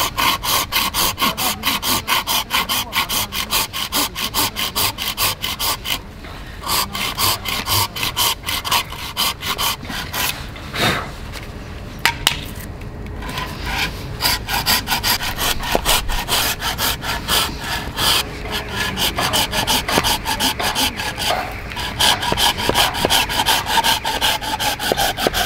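A handsaw cuts through wood for carving a cooking spoon, with steady rapid back-and-forth rasping strokes close up and nearly continuous, with only brief pauses.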